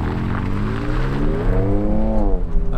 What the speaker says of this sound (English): Now I'm gonna change the exhaust note to normal. Same thing, accelerate.